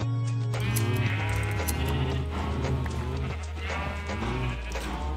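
Several Minecraft sheep bleats rise and fall over a steady electronic hum, loud and close, with a few soft clopping taps between them.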